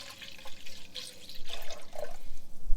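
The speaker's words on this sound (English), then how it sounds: "now I'm just going to pour the rest of the 3 cups of milk" Milk is poured into a cooking pot for a soup, a close, trickling liquid splash that builds and grows fuller toward the end.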